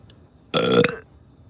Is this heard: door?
no